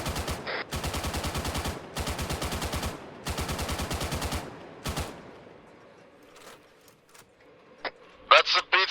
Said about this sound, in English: That's the BTR opening up.